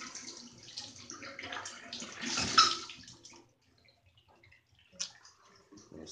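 Shower water runs indoors with fans going, a broadband hiss that swells and then drops away, leaving a quiet room with faint splashes and light drips.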